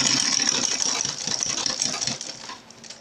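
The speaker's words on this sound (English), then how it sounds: "So I open it out and I'll sew it again" A sewing machine stitches fabric for a laptop backpack, giving a close, fast, steady mechanical rattle that runs unbroken and eases off at the end.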